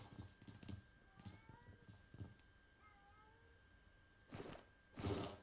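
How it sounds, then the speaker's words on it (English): A neighborhood cat meows a few times from outside, faint and distant, over a low background hum, with two louder thumps near the end. "Neighborhood cat is talking to me from outside."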